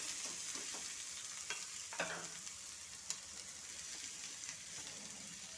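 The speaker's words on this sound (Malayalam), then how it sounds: "സവാള ഇട്ട് ക്യാപ്സിക്കം ഇട്ട് ഒന്നിളക്കിയ ശേഷം" Onion and capsicum being stirred as they fry in a pan, a steady close sizzle with a few sharp spoon scrapes and clinks against the pan.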